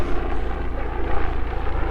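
Helicopter near a mountain hiking area: a close, steady, loud throbbing rotor and engine drone with a rhythmic pulsing beat, heard alone.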